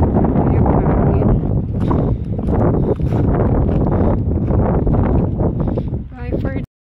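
Wind at the seashore blows hard against the microphone in a continuous rumbling roar that cuts off abruptly near the end.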